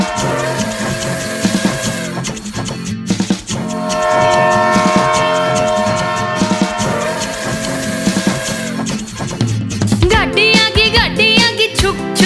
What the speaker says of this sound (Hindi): गाड़ी आगी छुक छुक छुक सीटी देखो क्यों कर बाजी कुक कुक कुक